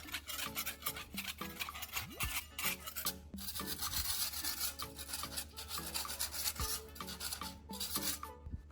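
Old paint being scraped off a wall by hand: continuous close rasping and scratching strokes in an uneven rhythm, fairly quiet, with no talking.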